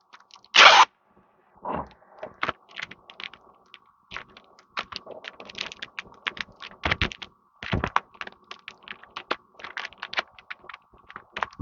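A plastic bag crinkles and rustles close by in irregular bursts, with a few louder crackles and quiet gaps, no speech.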